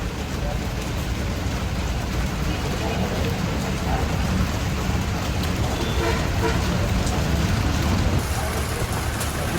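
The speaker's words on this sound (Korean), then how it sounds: "가는 도시마다 비가 오네요." Rain falls in Dambulla, Sri Lanka, as a dense, even hiss of drops that stays loud and unbroken throughout, with no clear pauses.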